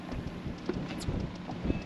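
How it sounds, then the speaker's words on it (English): Steady, strong wind buffets the microphone with a constant low roar and gusty rumble while crabbing from a boat, with faint water and boat sounds beneath. "this wind's whipping"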